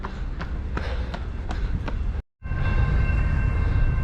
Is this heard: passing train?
yes